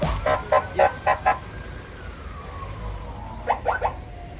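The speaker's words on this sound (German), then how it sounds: "Die haben einfach Sirene dabei" A police siren on an unmarked car sounds in short repeated yelps, then a longer wailing sweep, then another quick burst of yelps, heard from a moderate distance amid Istanbul city noise.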